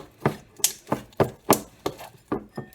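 Sticky homemade borax-free slime being mixed, giving a regular series of close, wet slapping squelches about twice per second.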